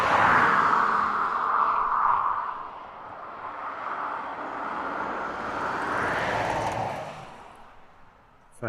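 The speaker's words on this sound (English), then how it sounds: "For any of you with us this morning that haven't seen the Typhoon air display, it is something to behold." Typhoon fighter jet at the RAF Coningsby air display, a loud roaring engine rush that swells, eases and surges again as it passes, filling the whole stretch before fading near the end.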